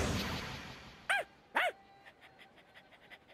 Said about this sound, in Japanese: あっちで子犬を見かけた。